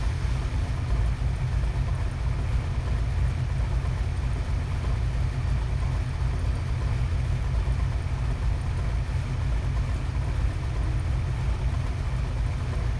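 A car engine in the racing game Burnout drones steadily throughout, a constant low rumble that stays loud and even from start to finish.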